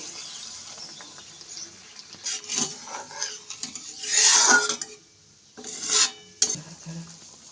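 Water splashing into simmering kofta gravy in a pan, with stirring and the clink of a utensil against the pot, rising to a louder burst midway, then a brief quieter gap before more pan clatter.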